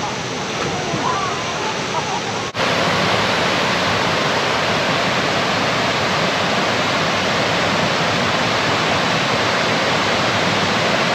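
Kuang Si waterfall in Laos roars as a dense, steady rush of falling water, close and loud, with a brief cut early on before the wash continues unbroken.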